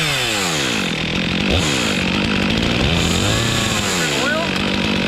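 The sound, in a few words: Stihl chainsaw running, making a weird sound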